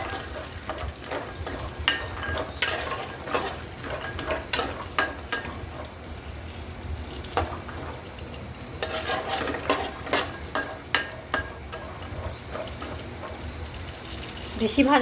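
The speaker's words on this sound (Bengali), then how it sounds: "হালকা ঘির সাথে ভেজে নিব বেশি ভাজা" Two hundred grams of almonds fry in ghee in a pan for zarda, a soft steady sizzle with frequent clicking stirs and scrapes of a spoon, close and fairly quiet.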